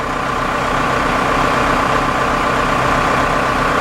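A Cummins 4BT diesel engine idles steadily and loudly up close, a smooth, even rumble with a fast low throb and no pauses or talk.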